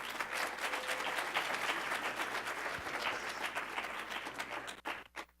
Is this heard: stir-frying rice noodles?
no